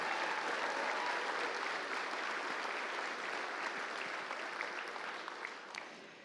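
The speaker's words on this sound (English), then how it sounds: "Round of applause for these gold medal winners" Sustained, dense applause from an awards ceremony audience at a miniature painting convention fills the room steadily and loudly, with no talking, before tapering slightly at the end.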